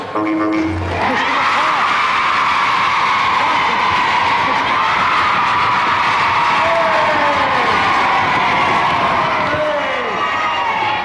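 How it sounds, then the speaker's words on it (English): A large crowd cheers and applauds loudly and continuously, a dense roar with whoops rising above it, filling the whole stretch. "Dave, a nice round of applause."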